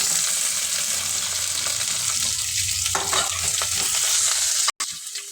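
Onions sizzle and fry steadily in a pan for tomato rice while a spoon stirs now and then. The crackling stays close and even, with a brief dropout near the end and no talking.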